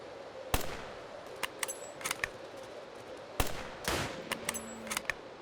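Video game gunfire comes as scattered sharp shots and short bursts, some single and some clustered, over a steady low background hum.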